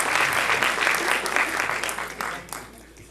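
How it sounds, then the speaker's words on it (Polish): An audience at a cabaret sketch contest on a theatre stage applauds in a thick, steady wash of clapping that fades gradually toward the end. "Brawa!"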